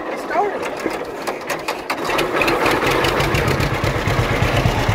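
A John Deere H tractor's gas engine runs just after starting, a steady mid-pitched putter with rhythmic pulses that firms up into an even idle, close by, with people talking at the start.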